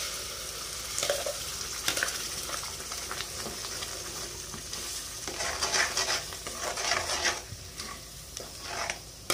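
Spinach paste being stirred into a sizzling masala in a pan for palak paneer, a steady scraping and stirring over a continuous frying hiss, close and moderately loud, with no talking.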